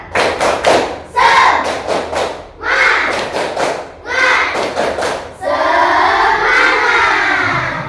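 A class of fourth-grade pupils chants 'Tepuk semangat' in unison with rhythmic clapping, loud and close, the claps falling in quick bursts between shouted syllables.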